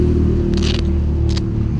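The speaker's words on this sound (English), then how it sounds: "Excuse the noise, we're on a bit of a major thoroughfare." Steady traffic roar from a busy major road, a continuous low rumble with a couple of brief passing swishes, heard near and loud with no voices.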